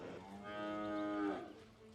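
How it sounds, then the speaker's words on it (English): A cow mooing taunt from the Dota 2 video game sounds as one long, drawn-out bovine moo, loud and close, lasting most of the two seconds with no talk over it. "Good to see both teams mooing their hearts out as well."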